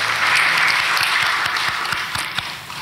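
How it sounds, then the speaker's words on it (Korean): A church congregation at a New Year's Eve worship service gives a short burst of applause, moderately loud and steady before tapering off, with a few sharper individual claps standing out near the end. "우리 하나님께 영광의 박수 한번 올려드리고"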